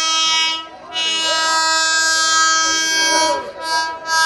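A new AC local train arriving at Bangaon station sounds a long, loud, steady horn blast that fades briefly and resumes, with crowd noise underneath.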